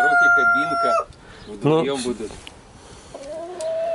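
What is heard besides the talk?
fighting roosters crowing and clucking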